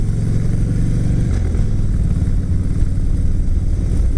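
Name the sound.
2012 Harley Dyna Switchback 103 cubic inch motorcycle engine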